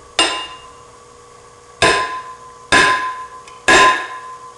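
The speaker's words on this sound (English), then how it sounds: "try and hammer this nail into this piece of wood" A glass hammer drives a nail into wood: four loud, sharp blows ringing with a glassy clink, spaced a second or so apart, close and alone.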